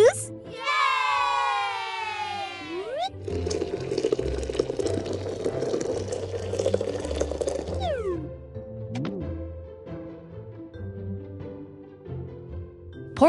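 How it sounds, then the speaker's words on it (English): Liquid pours steadily for several seconds, splashing into a container, framed by bright playful tones and gliding synth sounds. "Pour some juice in the jug"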